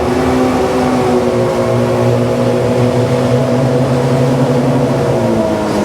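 A 2024 Yamaha 255X jet boat engine roars loudly and steadily as the boat accelerates onto plane, a dense droning tone slowly climbing in pitch, close and alone with rushing water and wind.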